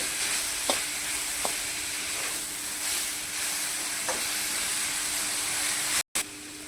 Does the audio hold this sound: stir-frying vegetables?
yes